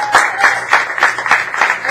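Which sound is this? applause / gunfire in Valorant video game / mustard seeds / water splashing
applause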